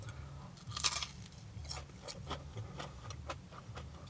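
Chewing on crispy battered haddock from a fish and chip shop: close, crunchy bites in an irregular rhythm, fairly quiet, with no talking.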